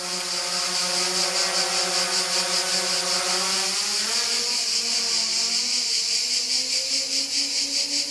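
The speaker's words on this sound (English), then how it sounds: "as you can hear, the drone is not super noisy actually" Powervision PowerEgg X drone flying, a steady high-pitched buzzing whine from its propellers that holds for several seconds, then the pitch rises as the motors speed up, close and continuous.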